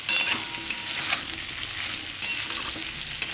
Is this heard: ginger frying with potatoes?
yes